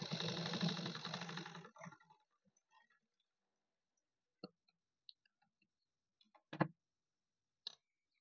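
Sewing machine running steadily for a short burst while double-stitching a blouse cup seam, then stopping, followed by a few scattered faint clicks and handling taps in near silence.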